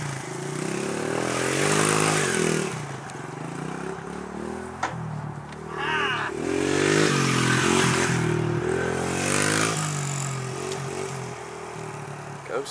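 A mini dirt bike engine revs continuously nearby, its buzzing tone rising and falling through repeated throttle blips, with a brief dip mid-ride before surging again.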